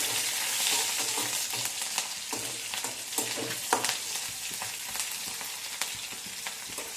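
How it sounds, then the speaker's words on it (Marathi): Green chillies sautéing in hot oil for kande pohe, a steady bright sizzle with frequent scraping stir strokes and small pops throughout, close and loud. "थोड्याशा मिरच्या टाकून परतवून घ्यायचं आहे"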